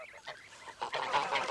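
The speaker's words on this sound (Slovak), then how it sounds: "naše národné plemeno slovenskú bielu hus" Slovak white goose, a national breed, honking in a short burst of several nasal calls that grow louder toward the end, fairly close and alone.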